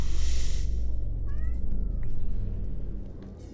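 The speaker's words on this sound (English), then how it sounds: "Meow." In a Mass Effect game scene, a cat meows a few short times. The meows are mid-loud and sit over a low ambient rumble and a brief noisy burst at the start.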